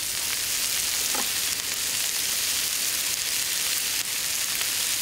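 Peppers, eggplant and minced garlic stir-frying for Ghanaian jollof rice, a steady loud sizzle that runs unbroken through the whole stretch, with faint stirring scrapes and no talk.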